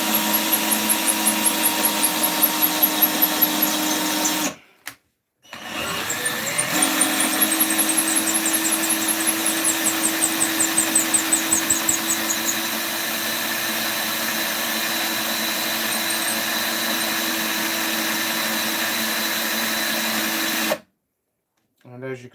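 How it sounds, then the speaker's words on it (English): A power drill bores through wood past debris, running steadily at high speed for long stretches, briefly stopping and restarting, with a persistent whine and grinding hum. "So I'm going to have to drill past some debris slowly."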